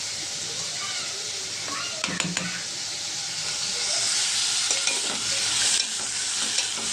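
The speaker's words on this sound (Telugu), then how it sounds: "నూనె మరిగింది కదా, నేనైతే దీంట్లో వేసేద్దాం. ఉల్లిపాయలు బాగా మగ్గాలండి" Onions fry in hot oil while being stirred, a loud continuous hiss and sizzle with clinks and scrapes of the spoon, the frying swelling in intensity partway through.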